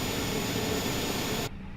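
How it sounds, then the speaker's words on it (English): An Airbus auxiliary power unit in Microsoft Flight Simulator runs as a steady, loud broadband whine and rush with a high tonal hum, then the upper hiss drops away abruptly near the end, leaving a lower rumble. "Listen to that APU."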